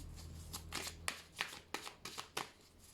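Tarot cards are drawn from a deck and laid out in a reading, giving a string of soft, crisp card flicks and slides, close and moderately quiet, with no speech over them.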